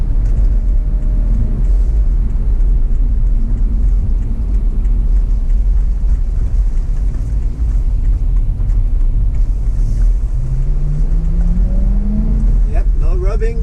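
A BMW E9X M3 with a new Hotchkis front sway bar makes a slow U-turn, its engine a steady low rumble heard from inside the cabin with road and wind noise throughout.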